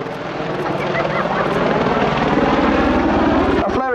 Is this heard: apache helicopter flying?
yes